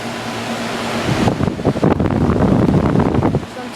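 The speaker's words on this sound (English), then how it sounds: "Here is an American Standard Allegiance 11 air conditioner at my eye doctor's" A 2005 American Standard Allegiance 11 air conditioner running outdoors on a humid day gives a steady fan whoosh, close and fairly loud, with gusty wind buffeting on the microphone through the middle.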